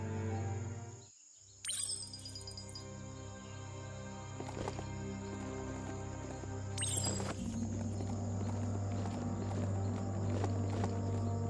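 A large hoofed mount walks in the Biomutant video game, its steady clip-clop hooves sounding close and moderately loud over an ambient game soundscape with faint chirping birds.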